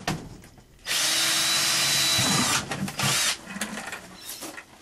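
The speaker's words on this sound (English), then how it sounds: "drill some holes into the bottom of this" A drill with a 1/4-inch bit whines loudly for about two seconds as it bores holes through the bottom of a plastic bucket, followed by a shorter burst and some handling noise.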